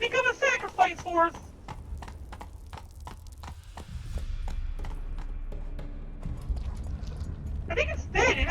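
Galloping horse hooves in the video game The Witcher 3 beat out a rapid, even clip-clop rhythm up close, with game voices speaking at the start and end.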